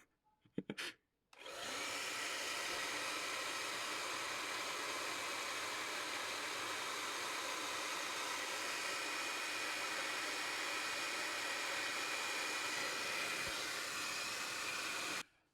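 A Philips DryCare Pro BHD274/00 ionic hair dryer switches on after a couple of brief bursts and then blows steadily with a loud, even whooshing hum until it cuts off.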